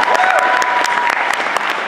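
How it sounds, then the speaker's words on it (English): Audience applause for guests at a Mighty Morphin Power Rangers convention panel, steady dense clapping throughout, loud and close, with a few brief cheers and faint voices mixed in. "I want to give one last round of applause for our guests"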